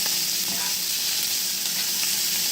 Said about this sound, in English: As you can see, the ham is cooking.